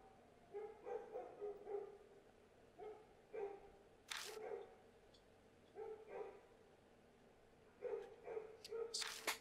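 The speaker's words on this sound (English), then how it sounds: "Just dogs, what they do, they bark." Several dogs bark in repeated short bursts at a moderate distance, with a few sharper yips mixed in, and no talking.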